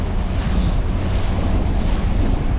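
Strong wind of 30+ mph gusts buffets the microphone over Lake Palestine, Texas, a loud, steady roar with rushing surf-like texture and choppy water, continuous and close with no talking.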